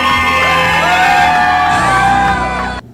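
A crowd at an expo cheers and whoops loudly for Tiny Texie, a dense, sustained roar of shouting voices that holds steady for about three seconds and then cuts off abruptly.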